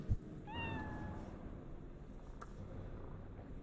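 A single cat meow in the Cyberpunk video game, a short rising-then-falling call near the start over a steady low background hum.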